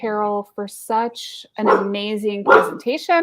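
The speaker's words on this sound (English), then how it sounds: "I apologize for my dog deciding to bark under my desk right about now," A pet dog barks from under a desk in a home office, a few short indoor barks mixed in with a person speaking steadily over them.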